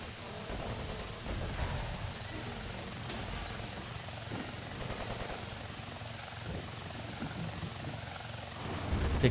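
Helicopter in the video game Superman: Shadow of Apokolips, a steady low rotor drone running throughout with scattered game thuds and effects layered over it, moderately loud.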